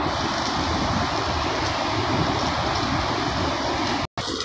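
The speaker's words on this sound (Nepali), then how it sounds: "टिस्टा खोला यसरी बौलाको छ।" The swollen Teesta river rushes past in full spate during rain, a loud, continuous roar of churning water with wind buffeting the microphone and a momentary break near the end.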